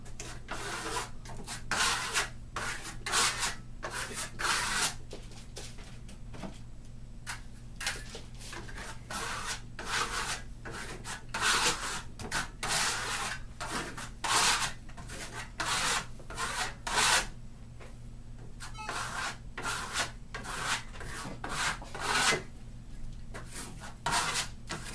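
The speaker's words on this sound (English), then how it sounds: "You can put on your trowel and put it on nice and tight." A trowel applies Marmorino Venetian plaster with close, rhythmic scraping strokes over a steady low hum, repeating briskly throughout.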